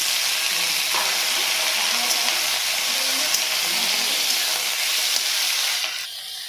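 Potatoes poured into a hot pan of oil with ginger and green chilli, giving a loud, dense, continuous frying hiss that holds steady and eases off slightly at the very end.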